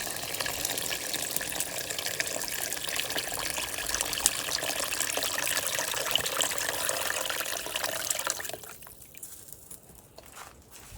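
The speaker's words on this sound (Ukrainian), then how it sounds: "Беремо 2 літра води, двушечку, двушечку і виливаємо, виливаємо." Two litres of water poured out in a continuous loud rushing splash while making porridge outdoors at a dacha, steady for most of the clip, then thinning to a trickle and drips near the end, with no talking.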